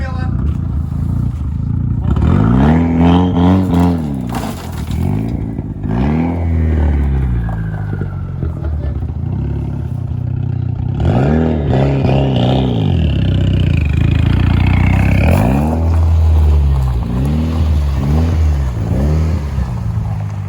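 Big turbo Mitsubishi Lancer EVO X accelerating hard, several loud rising engine pulls with gear-change breaks, close and powerful, with people talking and cheering over the runs.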